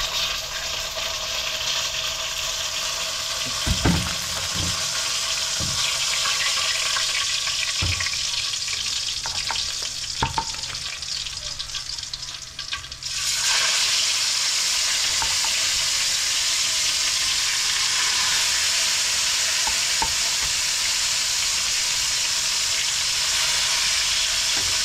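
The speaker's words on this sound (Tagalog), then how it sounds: "patapos na po mag-prito" Steady broadband sizzling of fish frying in hot oil, continuous and close, with a few scattered clicks and clatters, growing slightly brighter midway.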